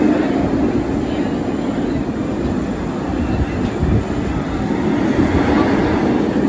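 A stand-up roller coaster train at Carowinds amusement park rumbles steadily on its track, producing a loud continuous roar and wind rush with no break across the whole stretch.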